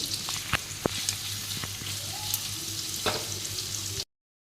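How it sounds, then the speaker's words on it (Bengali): Onions sizzle steadily in a pan as they are fried until reddish for chicken hariyali curry, a close, even crackle with a few sharp pops and stirring clicks, and no talking. "পেঁয়াজটা এখনও ভাজা হয়নি একটু লাল করে নামাতে হবে"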